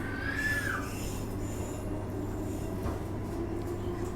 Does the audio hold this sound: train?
yes